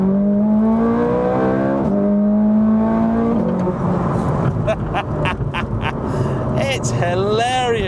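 Ferrari 430 Scuderia engine being driven hard: a loud high-revving wail climbing steadily, then quick downshift blips with sharp crackling revs, close and dominant, while someone talks over it.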